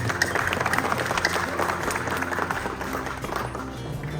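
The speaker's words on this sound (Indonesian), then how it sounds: "Boleh kasih tepuk tangan dulu buat Jeremy." Wedding guests applaud the newlyweds at a reception, a dense crowd of clapping hands with sharp individual claps on top, steady and fairly close for the whole stretch.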